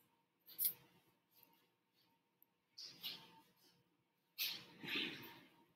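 A pencil still life drawing gets its sides erased: soft, faint scratchy bursts of an eraser rubbing across paper, coming in three separate spells with quiet gaps between them.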